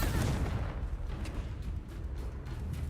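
In Hogwarts Legacy, a Bombarda blasting spell detonates with a loud, close booming burst whose rumble decays over a few seconds, with no voice over it.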